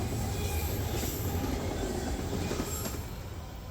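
A D&H manifest freight train rolls past close by, a continuous loud rumble of railcars with squealing wheels and faint rhythmic clatter, fading slightly toward the end.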